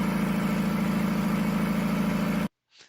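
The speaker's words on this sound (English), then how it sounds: "there is also some noise of this engine" A gravitational energy device's engine runs with a steady, loud, low rumbling hum and mechanical drone for a couple of seconds, then stops abruptly, leaving a brief faint sound.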